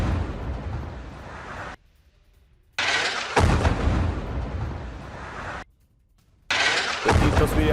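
Repeated heavy blasts and roaring rumble from ballistic missiles striking a city center in Tel Aviv, loud and close, broken by two abrupt gaps of near silence between bursts.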